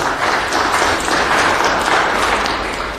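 People at a city planning and land use committee meeting break into steady, dense applause, close and fairly loud for the full few seconds.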